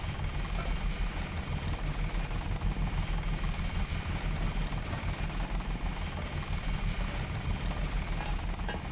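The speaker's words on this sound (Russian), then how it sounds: "О, вертолет наш." A helicopter in the video game Deus Ex drones continuously with a steady rotor and engine hum, close and unchanging.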